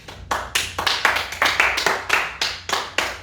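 A few people clap hands in a studio podcast setting, a steady run of sharp, close claps about three per second, fairly loud with no talking over them.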